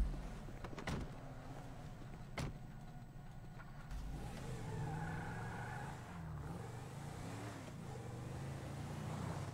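A car drives in the video game GTA 5 roleplay: an engine starts with a few clicks and thumps, then idles and revs steadily, with a slight rise and fall, close and moderately loud.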